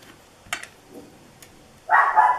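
A pet dog indoors gives a few faint, distant yips and then one louder, longer bark or whine near the end, heard against a quiet crafting room with no talking.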